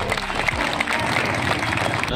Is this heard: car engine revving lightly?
no